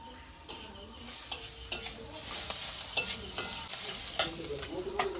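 Asafoetida sizzles in hot oil while being stirred for a vada pav filling, with a continuous close frying hiss broken by repeated sharp scraping clinks of a spoon against the pan at an irregular pace, with no voices.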